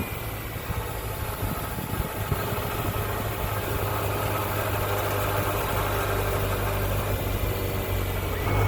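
After a power wash, a car engine idles in a steady low rumble, close and even, with no talking over it.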